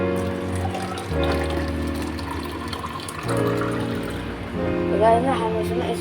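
Cold water pours into a glass in a steady trickling stream whose tone climbs as the glass fills, close by, with a brief change in flow midway.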